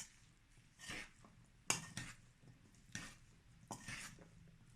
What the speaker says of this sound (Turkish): Şimdi ayvalarımız içine bu ceviz, son kattığımız cevizlerimizi de bir karıştıralım